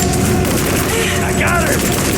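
Gunfire and a grenade blast in Rise of the Tomb Raider, loud and dense throughout, a continuous rattle of shots with a booming burst partway through and voices shouting over the fighting.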